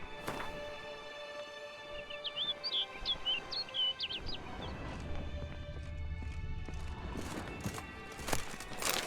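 Birdsong from The Witcher 3: Blood and Wine, a run of quick bright chirps and tweets in the game world, with horse hooves clopping and ambient game sounds beneath.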